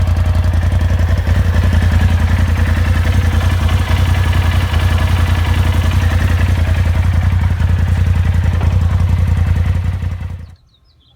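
A Polaris RZR XP 1000 engine runs after an oil change, a loud steady close idle with a clattery throb that cuts off near the end.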